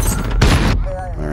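Gunfire in the video game Modern Warfare: one loud, dense burst of shots in the middle of a short stretch of game noise.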